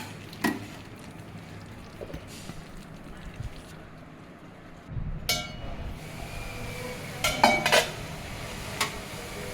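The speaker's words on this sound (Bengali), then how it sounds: "আলু দেওয়ার পর আমি আরও কিছু সময় মাংসটা কষিয়ে নেব যতক্ষণ না মাংস থেকে তেল ছেড়ে দেয়।" Chicken and potatoes being stir-fried in a pot: sparse metal clinks of a spoon against the pot over a low background, growing busier with scraping and clatter toward the end.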